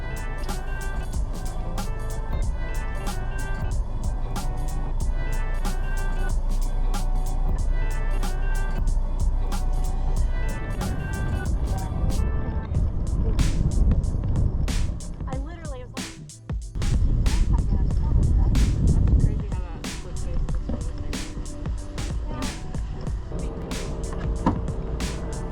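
A black Jeep drives over the Glamis sand dunes, engine roaring loudly and surging with repeated revs, a brief drop to near quiet midway, then a heavy, close rumble as it climbs again.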